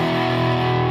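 A Gibson Les Paul 50s Tribute electric guitar plays through a distortion pedal, holding one loud, thick, sustained chord that rings evenly for the whole second.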